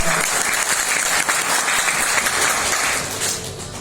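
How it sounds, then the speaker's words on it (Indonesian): A seated audience bursts into sustained, dense clapping for a mentor at a speaking session, steady and loud for several seconds before starting to fade. "Mohon beri aplaus juga buat mentor saya, Bapak Ibu."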